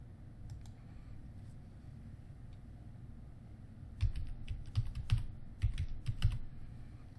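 A password is typed on a computer keyboard, faint scattered key clicks at first, then a quicker cluster of louder taps in the second half over a low room hum.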